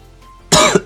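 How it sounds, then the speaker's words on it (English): A single short, sharp cough close to the mic, breaking a quiet pause in a narrated digital drawing session. "Excuse me, got a little bit of a cough."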